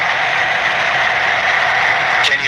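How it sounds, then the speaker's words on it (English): An air conditioner gives off steady white noise, a loud even hiss that holds unchanged throughout with a brief faint click near the end, and no voices. "That's white noise from the air conditioner."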